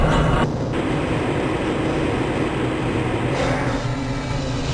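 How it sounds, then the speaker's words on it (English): A Black Mesa transit system train in Half-Life: Blue Shift rolls along, a loud steady rumble and whine of the rail car that shifts tone partway through, with no talking. "This train is inbound from the Area 8 topside dormitories to the Central Transit Hub in Area 9."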